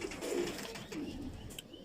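Pigeons coo in a couple of soft, rolling calls close by, with faint background noise.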